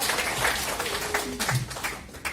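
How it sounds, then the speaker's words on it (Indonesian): A live motivational seminar audience in Surabaya claps under a speaker's voice, the applause fairly loud with sharp hand-clap bursts and a voice talking through it. "Tepuk tangan dulu dong, ya"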